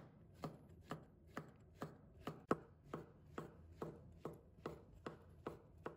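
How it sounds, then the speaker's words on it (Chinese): A knife slices shiitake mushrooms on a cutting board in a steady, evenly spaced series of about a dozen soft, close taps, with no talking. "再准备2个香菇，把它切成片，"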